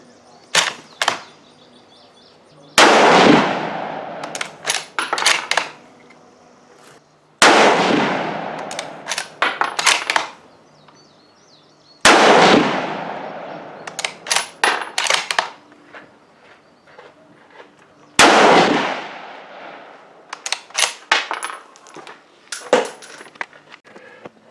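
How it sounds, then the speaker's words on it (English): Savage Axis II rifle fired outdoors in a series of sharp, loud reports, each followed by a decaying ring and scattered metallic clinks, with short pauses between shots and no talking. "Matt's going to aim in, take his next set of 4 shots"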